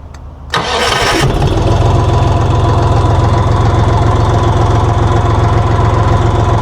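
A DongFeng 244DG2 mini tractor's engine starts and settles into a loud, steady close rumble with a fast even knock, running continuously as it pulls away.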